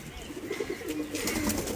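A golden pigeon coos softly in a loft, low rolling coo notes repeating in a quick rhythm over a faint background hiss.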